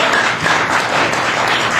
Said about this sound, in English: Could we hear a little applause?